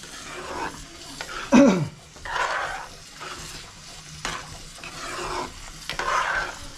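A spoon stirs wild mushroom curry, cooked tribal-style, in a pan with scraping strokes and soft sizzling, several louder swirls coming in uneven bursts.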